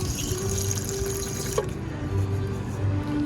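Water runs steadily from a free public water dispenser into a container, a continuous close hiss and splash with a faint knock partway through and no talking.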